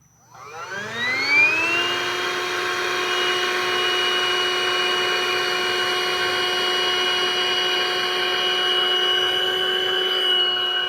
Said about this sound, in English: we're literally going to suck the air right back out of this thing